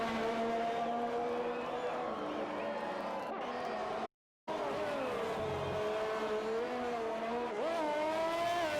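Formula 1 car engine in a racing video game at the Monaco Grand Prix, on medium tyres: a steady high engine whine with shifting pitch and a brief squeal of tyres, under quiet commentary, cut by a short dropout midway.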